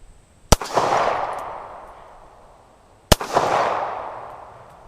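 Two sharp 9mm pistol shots from a 1970s Star BM at an outdoor range, about two and a half seconds apart. Each crack rings out with a long echoing decay, and no one talks.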